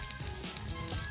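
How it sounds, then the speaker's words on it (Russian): Fritters frying in a pan give off a steady, fairly loud sizzle and crackle throughout, with no voices. "Разложите оладьи на сковороде по часовой стрелке, чтобы вы всегда знали, какой готов первым."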